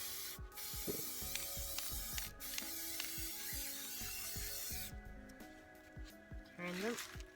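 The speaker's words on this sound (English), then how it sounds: "I was spraying them" Spray paint hisses in steady bursts over small miniature people sculptures, with faint clicks and handling noises throughout and a brief pause near the end.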